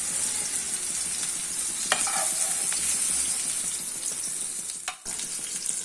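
Onions sizzling steadily as they fry in oil in a pan for an Arabic chicken maqlooba, with occasional scrapes of stirring and a clack of the spoon near the end, close and continuous without speech.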